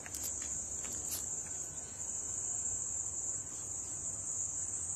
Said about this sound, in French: Il finit avec les grillons ici.